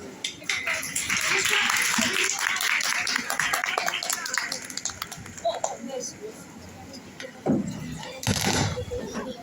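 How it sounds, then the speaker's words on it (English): Applause from a college event audience, a dense, fairly loud spread of many hands clapping that thins into scattered claps, with some voices heard over it. "let me please join me to welcome them with a big rounds of applause"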